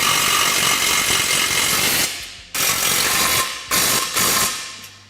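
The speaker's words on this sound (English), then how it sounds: "it is okay to run your bolts up with an impact back here" Pneumatic impact wrench rattling bolts tight on 4-inch GDP portal gear hubs of a Polaris RZR Turbo S, three or four close, loud bursts of hammering, the first about two seconds long, the rest shorter with brief gaps.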